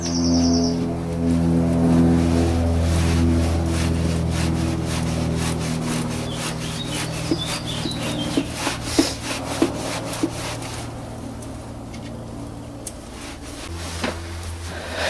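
A loose throttle body on a Volvo XC T being worked free, giving steady scraping and rubbing of parts with a run of small clicks and knocks, close and fairly loud, no voices.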